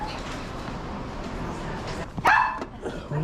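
A dog at a yard sale gives a single sharp bark with a short yip amid outdoor background chatter and rustling.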